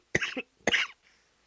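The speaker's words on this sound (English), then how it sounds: "I'm so sorry for coughing on you" Two harsh coughs in quick succession, close by, each a short rough burst, followed by quiet.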